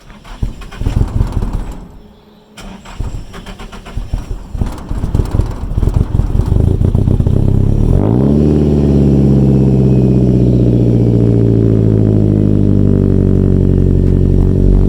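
A classic Datsun's engine cranks over from cold with rough, uneven bursts, then catches and settles into a loud, steady rumbling idle that fills the space, close by.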